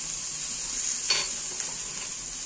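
Onion with ginger garlic paste sautéing in oil in a pan, giving a steady close sizzle with a brief stir scrape partway through.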